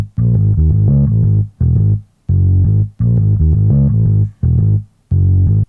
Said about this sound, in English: I made a bass line, a very catchy bass line,